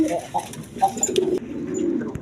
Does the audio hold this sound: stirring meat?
no